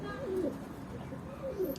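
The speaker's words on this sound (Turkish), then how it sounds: "Güzel kuşlar. Sesli şamatalı bol taklarda dönen kuşlar." Two soft, throaty coos from tumbler pigeons, one early and one near the end, with low background rumble between them.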